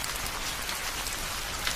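Steady rain patters densely on surfaces in a Bengali ghost story cartoon, an even, continuous hiss with no voices over it.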